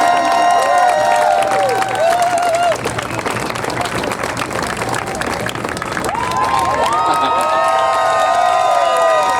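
Crowd at the 2022 Solidarity march in Québec applauding and cheering young marchers: a dense, steady wash of clapping mixed with shouts and whoops, with voices calling out over it throughout.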